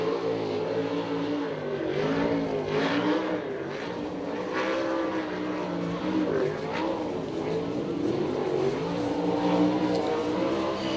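USAC/CRA sprint cars racing on a Tucson track, engines roaring and revving loudly in a continuous rising and falling drone as several cars pass, with a voice talking over it.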